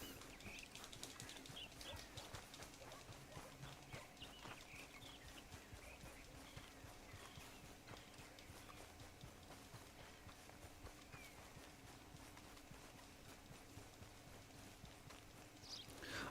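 Rapid clip-clopping horse hooves from a video game, a steady running gallop that persists throughout amid dense game background noise, faint and fairly distant in the mix.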